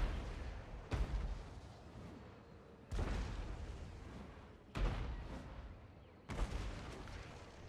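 Artillery pieces fire in a Total War: Warhammer II multiplayer battle, four heavy booming shots spaced a couple of seconds apart, each a sharp blast trailing into a rumbling decay under steady battlefield noise.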